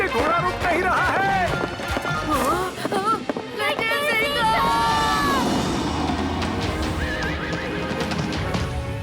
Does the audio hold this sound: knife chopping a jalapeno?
no